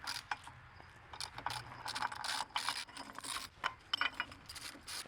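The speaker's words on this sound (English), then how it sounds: "Then we need to take our socket, make sure it's set to loosen, and remove this bolt." A socket ratchet loosening a bolt on a Mercury 60HP outboard motor during water pump impeller replacement, rapid close clicking bursts in uneven runs with metallic rattles between, no talking.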